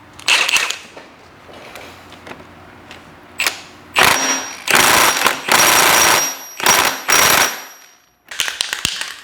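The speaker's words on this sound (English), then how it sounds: "Let's see if we can get it with the old Milwaukee" A Milwaukee power tool whirs in repeated loud bursts of a second or so, separated by short pauses, while working a stuck part loose during a repair.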